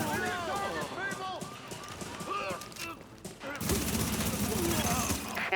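Gunfire in a shooter video game crackles in scattered shots, then swells into a dense, sustained barrage near the end, with voices talking throughout.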